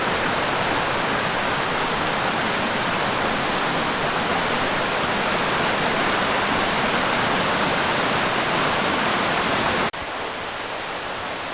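Amicalola Falls pours as a loud, steady broadband rush of falling water that stays constant and then drops abruptly to a softer level near the end.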